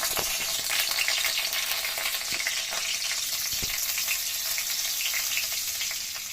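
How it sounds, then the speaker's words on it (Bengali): Garlic fried in ghee for an egg tarka tempering, making a dense, continuous sizzle close by, with faint stirring taps scattered through and no talk. "এবার ঘি দিলাম তরকা লাগানোর জন্য। রসুন দিলাম"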